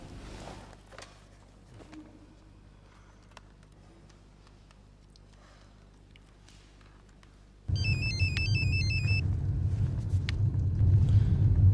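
An electronic telephone ringtone in an Indonesian TV drama cuts in after a quiet stretch, chirping in a repeated warbling pattern over a steady low rumble, close and fairly loud.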